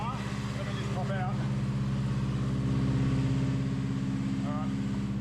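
Car engine idling steadily on a workshop hoist after a new gearbox and clutch were fitted, a constant low drone throughout with brief speech-like chirps over it.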